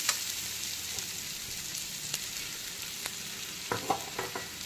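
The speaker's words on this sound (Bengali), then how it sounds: "এখন নারকেল কোড়াটাকেও বেশ কিছুক্ষণ ভালো করে ভেজে নিতে হবে।" Grated coconut sizzling and frying in a pan with crushed garlic for a ladyfinger curry, a steady hiss broken by a few soft stirring scrapes near the end.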